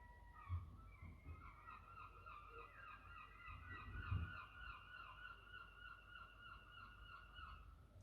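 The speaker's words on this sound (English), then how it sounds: "Sorry for the seagulls." Gull-like bird calls repeat steadily over several seconds, a continuous chorus of harsh, wavering cries at moderate distance, with a couple of low thumps underneath.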